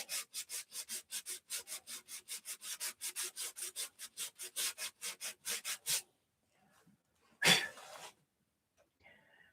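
Sandpaper worked by hand over a wooden model airplane gives a quick run of rhythmic close strokes for several seconds, then stops, followed by a short sharp noise like a sneeze and near silence.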